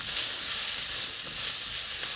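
Peppers and onions for sweet and sour chicken sizzling in a hot pan, a steady, bright hiss that stays even and close throughout the short stretch, with no voices.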